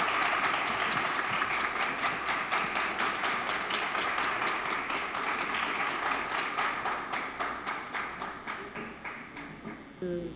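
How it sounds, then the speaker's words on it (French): An audience at a ministry certificate ceremony claps in unison for the minister, a steady rhythmic beat of synchronized hand claps that keeps time for several seconds before tapering off. "Sous vos applaudissements."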